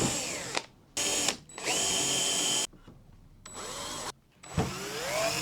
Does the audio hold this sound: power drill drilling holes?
yes